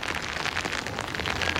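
Steady rain patters on a sailing boat out on the water with its sails raised, a dense, even hiss of drops that runs close and unbroken throughout with no voices.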